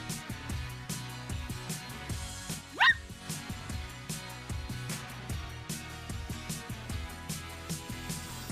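A cartoon puppy barks and yips in the Barbie & Her Sisters Puppy Rescue video game, with short bright barks and a squeak over a steady rhythmic background music loop.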